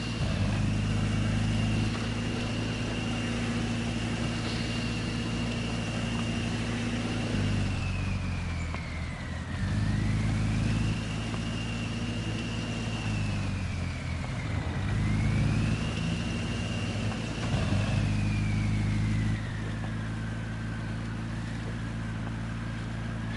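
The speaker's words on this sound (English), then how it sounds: "that lowers the sound of that turbo if you put it into second" A truck's turbocharged engine in the SnowRunner video game holds a steady loud drone, with a whistling turbo tone that rises and sags three times as the load changes, with no one speaking.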